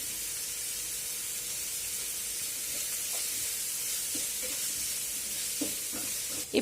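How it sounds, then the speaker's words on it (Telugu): Cabbage Manchurian sizzling in oil as it is fried and tossed over a high flame, a continuous bright hiss with scattered soft clinks and scrapes of the pan and spoon, a slightly louder knock at the end; no talking. "ఈ ఫ్రై మొత్తం హై ఫ్లేమ్ మీద జరిగితే టాసింగ్ కాబట్టి మంచి ఫ్లేవర్ వస్తుంది."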